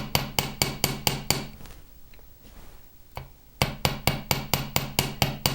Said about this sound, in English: we could do that with our chasing hammer